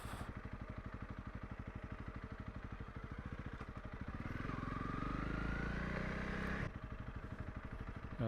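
Honda CRF 300 Rally motorcycle engine, a steady single-cylinder thump close by that swells into a louder, rising rev midway, then drops back to an even putter.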